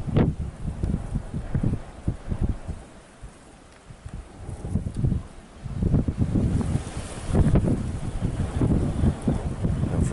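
Gusty wind buffets the microphone in uneven bursts during a spreading wildfire on a Cyprus hillside, easing briefly in the middle before roaring back strongly.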